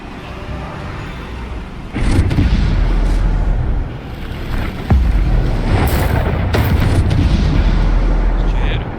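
Booming Bombarda explosion spells in Hogwarts Legacy, several heavy blasts landing among continuous game noise and rumble, loud and close.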